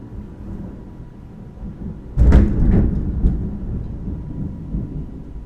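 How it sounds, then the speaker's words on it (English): A low thunder rumble rolls in after a quiet stretch, swelling with a sharp crack and then lingering as a long fading growl. "Thunder, would you shut the hell up?"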